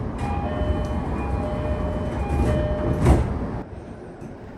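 A JR Itsukaichi Line train pulls out of Musashi-Itsukaichi Station, heard from inside the car: a rumbling roll with rising electric motor whines, a thump near the end, then a quieter run.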